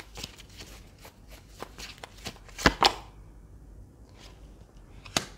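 Tarot cards being shuffled and drawn, a series of soft close flicks and slaps with a few sharper snaps, quiet and irregular.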